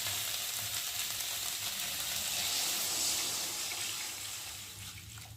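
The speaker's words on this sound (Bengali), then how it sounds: "আর আমি এখন জল দিয়ে দেবো" Water being poured into a pan of spiced soybean and potato curry, giving a steady loud sizzling, bubbling hiss that runs through the clip and eases slightly at the end.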